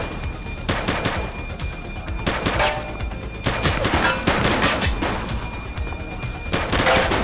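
Enemy gunfire in The Precinct, a police video game: repeated bursts of sharp shots come in several separate volleys over several seconds, loud and close, with no talking.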